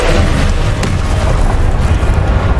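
Spell blasts and explosions from the video game Hogwarts Legacy, a dense, continuous rumble of booming bursts with a sharper crack near the start, loud and close throughout with no talking.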